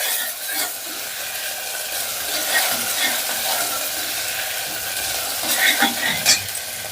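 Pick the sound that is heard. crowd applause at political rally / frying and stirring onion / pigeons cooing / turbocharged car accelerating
frying and stirring onion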